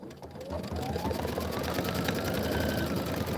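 A sewing machine runs steadily, stitching leaf shapes on a Kimberbell Sippin on Sunshine quilt section, with a continuous close, even whir that holds for the whole stretch and no talk over it.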